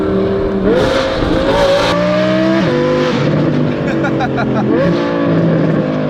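A loud Audi R8 with a Valvetronic Designs F1-style exhaust revs repeatedly, its pitch climbing and dropping in surges, close and dominating, with voices talking underneath.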